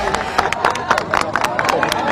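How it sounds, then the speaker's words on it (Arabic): A crowd claps for someone amid excited cheering and babble, dense irregular claps close by with voices throughout. "صفقوا له"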